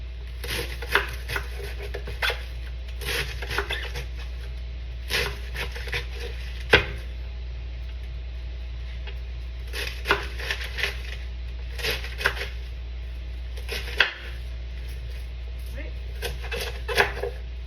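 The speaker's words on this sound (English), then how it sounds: "I just like chopping the cabbage." Sharp, irregular crunching chops of a knife cutting through cabbage in bursts, close by, with a steady low hum underneath and occasional louder thuds.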